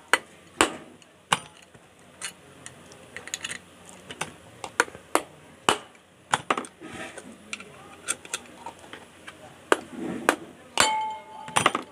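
Hammer blows on the mounting nuts of a ceiling fan, knocked evenly around to loosen them: a dozen or so sharp metallic taps, close and irregularly spaced, with faint clinks between strikes.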